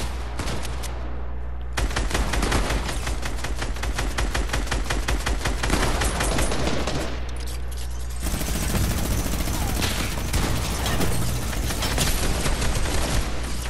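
Fortnite gunfire crackles in dense, rapid bursts, loud and continuous with brief pauses between volleys.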